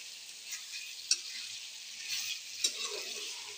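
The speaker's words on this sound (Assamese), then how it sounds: "ভাজিয়ে আছোঁ পানীত মাংস" Broiler chicken meat for a chicken curry frying in a pan: a steady, close sizzle with two sharp scraping clicks from stirring, no talk.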